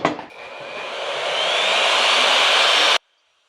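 A power tool with a cutting bit routs a hatch template for a Silver Eagle bus, a loud steady high whine that builds over a few seconds and then cuts off abruptly.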